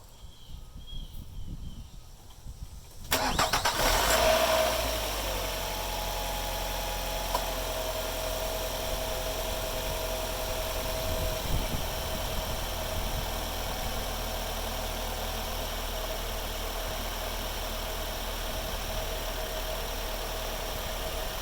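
A 2006 Nissan Altima 2.5 S with freshly changed spark plugs cranks briefly, catches with a loud start, then settles into a steady, even idle hum that runs on unchanged for the rest of the clip, close by.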